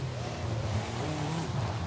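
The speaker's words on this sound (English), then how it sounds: "Obviously, it's just kind of an idle engine." A car engine idles in a racing video game set at Tsukuba Circuit, a steady low rumbling hum that holds evenly throughout at moderate volume.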